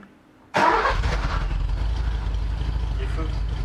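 A Ford Granada Coupé V6 cranks briefly and catches, then settles into a loud, steady idle close by, with a voice talking faintly over the running engine.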